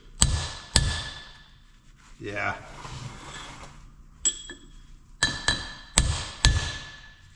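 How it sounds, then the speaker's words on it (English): A hammer drives a punch against a flywheel ring gear on a Detroit 2-53 engine, giving sharp metallic strikes, two early and a cluster of four near the end, with a brief voice in between. "We're just going to use a punch and a hammer, and with any luck I can get this to move."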